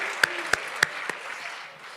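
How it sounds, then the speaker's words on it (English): Applause at a mayoral bursary handover ceremony: a few sharp, separate claps over a low crowd murmur, thinning out and fading within two seconds. "Let's give them another round of applause."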